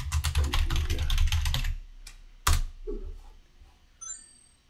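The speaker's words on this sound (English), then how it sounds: "I'm going to type my name." Rapid typing on a computer keyboard, a quick run of close, crisp key clicks lasting under two seconds, followed by a few isolated louder key taps and quiet pauses.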